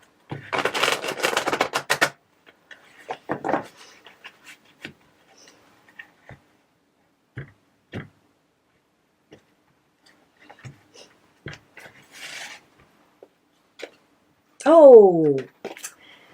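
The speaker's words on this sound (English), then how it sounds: "one more shuffle for my Pisces friends" Tarot cards get a fast riffle shuffle, a dense two-second fluttering burst close by. Scattered soft taps and flips of individual cards follow, and a voice speaks briefly near the end.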